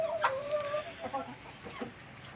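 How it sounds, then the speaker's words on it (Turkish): A broody hen clucks softly nearby, a few short throaty calls and a drawn-out croon against quiet background noise. "burada bir tavuğumuz var"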